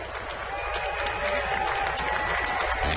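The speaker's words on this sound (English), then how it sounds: "with a rhythmic applause" A crowd claps in a steady rhythm at a 2016 Atlanta Braves vs. Washington Nationals baseball game, with two strikes and two out. The applause is continuous and distant-sounding, with a faint pulsing beat.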